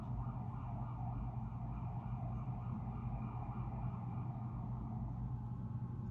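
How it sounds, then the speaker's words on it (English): A distant ambulance siren wails faintly over a steady low rumble of traffic, fading slowly rather than coming close. "don't mind the ambulance that just went screaming by"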